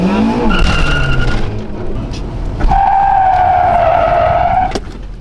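Honda car's tires squealing and skidding through a handbrake slide, a sustained close tire screech over engine noise, lasting several seconds.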